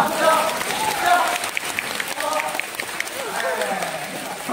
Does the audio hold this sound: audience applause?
yes